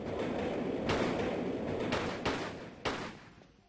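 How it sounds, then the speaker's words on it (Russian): A train rumbles through a London subway tunnel in Tomb Raider III, its steady roar swelling, then a few hard metallic clanks and bangs punch through before the noise fades away. "нужно от поезда спрятаться"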